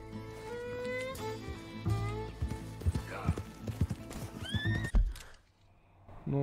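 Horse hooves clip-clopping and a whinny from a horse in the video game Red Dead Redemption 2, with game music and voices over the hoofbeats before a sudden drop to near silence.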